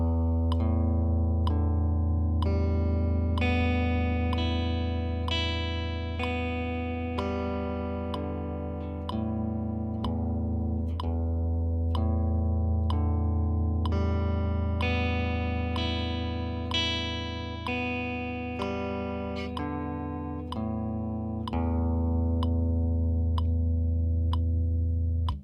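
Electric guitar upstrokes picked steadily in time with a ticking metronome, a run of even, ringing strummed chords with sharp click transients, close and clear with no talking.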